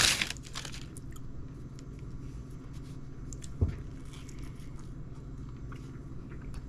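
Someone biting into a Taco Bell Crunchwrap: a crisp crunch at the start, then soft chewing with one more sharp crunch partway through, close to the microphone over a low background hum.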